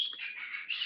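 Parrots chirp in a steady, bright, continuous twittering that runs unbroken through a brief moment, close and fairly loud, with no talk over it.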